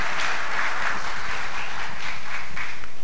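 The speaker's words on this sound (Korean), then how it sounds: "큰 박수 부탁드립니다." Steady applause from a festival audience, a dense wash of many hands clapping together at a constant level for the whole stretch, with no break.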